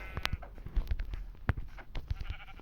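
Several short, clipped sheep bleats come in quick succession, fairly faint, like sound effects from a video game.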